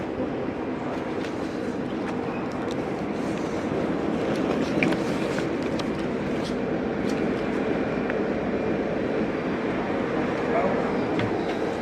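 Steady rumble of a train travelling from Romania to Hungary with faint rattling clicks, continuous throughout, with people's voices blending into the background.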